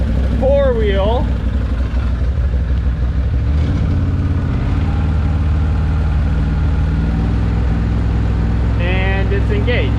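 A neglected Can-Am Maverick side-by-side idles steadily in four-wheel drive, a constant close engine drone with a slight shift midway, while brief squealing chirps come through over it.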